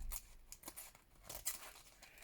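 Scissors snip through lace in quiet, close, irregular cuts with faint papery crinkling and no talking.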